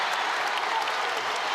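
A basketball crowd in the NC State arena cheers and applauds during an 11-0 Wolfpack run, a dense, continuous roar of clapping and voices that holds at an even level from start to end.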